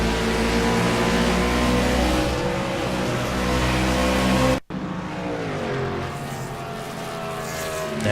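Stock car racing at Dover, a car getting loose on track with a loud sustained engine roar, cut by a sudden break partway through, then a fainter, falling engine drone as the cars move away.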